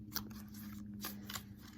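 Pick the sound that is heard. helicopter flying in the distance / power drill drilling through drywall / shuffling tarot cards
shuffling tarot cards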